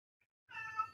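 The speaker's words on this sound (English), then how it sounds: "That's my cat." A house cat lets out a single short, clear meow after a brief near-silence, close by and fairly loud, with no talking.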